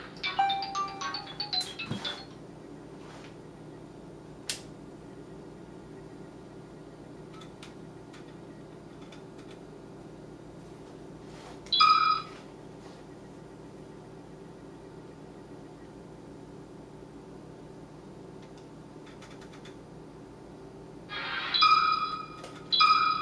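A Nintendo Wii starts a GameCube game with sound played through a Motorola Atrix lap dock: short bright chiming tones open, then two more brief electronic jingles sound later over a quiet, steady hum.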